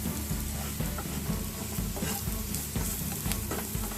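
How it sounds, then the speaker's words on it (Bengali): Crushed ginger frying in a pan, a steady dense sizzle with scraping stirs running through it throughout, close and fairly loud, no voices. "আবার আদাটাকে আমি এটার সাথে ভাজতে থাকবো"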